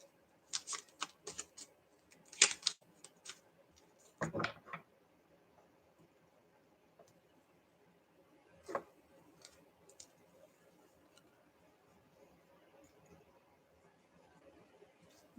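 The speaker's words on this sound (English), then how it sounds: "so hard for me to shuffle these cards because my hands are small and these cards are so long" Long tarot reading cards are shuffled close and soft, giving bursts of dry riffling and clicking flutters, with a louder cluster early and sparse ticks after, no talking.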